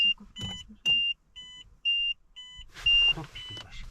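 A car's navigation unit beeps repeatedly while it searches, giving about six short, evenly spaced tones. Faint voices talk between them, and cabin noise rises near the end.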